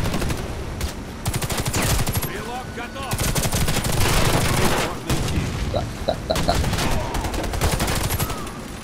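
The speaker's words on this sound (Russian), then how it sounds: "Кто там стреляет?" Sustained automatic gunfire from the Warface first-person shooter, dense machine-gun bursts and rattling shots filling the whole stretch, loud and close, with brief player talk mixed in beneath the firing.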